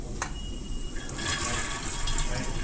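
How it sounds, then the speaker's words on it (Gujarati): Pigeon peas (tuvar) are tipped into hot water in a pressure cooker, making a continuous close splashing, gushing pour that swells slightly midway. "પાણી સરસ ગરમ થઈ ગયું છે તો હવે આ તુવેરને કુકરમાં નાખી દેશું"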